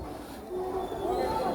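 A small children's ride train runs at a water theme park in Madurai, giving a low steady rumble with a faint tonal whine for a moment, heard close and fairly loud.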